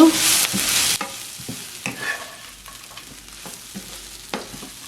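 Dried sprats (nethali karuvadu) fry in a pan for a Jaffna-style fry, a loud burst of sizzling at first, then a steady crackle as they are stirred with repeated scraping strokes close by.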